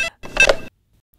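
A telephone rings at a police station in Vizianagaram: one short, bright electronic ring burst, close and clear, after a brief clipped tone at the start, then silence.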